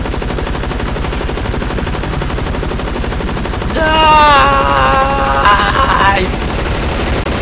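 Heavy machine gun in the video game ZMR firing rapid bursts, a dense continuous rattle of shots under and around a player's brief exclamation, with a louder burst near the middle.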